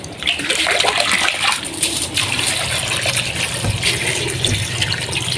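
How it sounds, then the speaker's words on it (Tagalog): Fresh water pours and splashes into a cooking pot during preparation of a Filipino goto snack, a continuous close gushing fill with small surges, no talking over it. "lagyan natin siya ng panibagong tubig"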